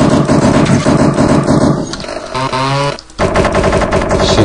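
A gunfire sound effect from a desktop prank app: loud rapid bursts of machine-gun fire rattle away, broken by a short revving engine-like whine and a brief pause, then more fast firing.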